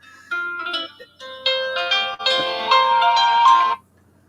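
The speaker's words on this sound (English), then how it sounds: "No, that's my alarm." A phone alarm rings out a bright electronic melody, loud and close, repeating its tune in rising phrases before cutting off.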